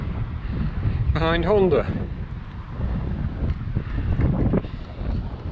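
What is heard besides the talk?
strong wind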